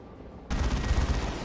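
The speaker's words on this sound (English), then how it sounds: "we can see an assault cannon barrage now" An assault cannon barrage in a Warhammer 40k strategy game, a sudden loud burst of rapid, rumbling heavy fire that cuts in after a moment of near silence and keeps pounding to the end.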